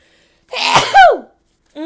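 A woman lets out one loud, close sneeze, a sharp burst with a breathy tail, followed by a brief voiced sound right after.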